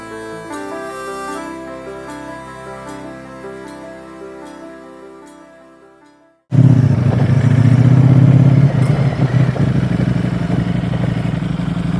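A MY20 Ducati Streetfighter V4S motorcycle fitted with an Akrapovic road-legal exhaust bursts into a loud, sustained engine roar after a few seconds of music, revving close by with no talk over it.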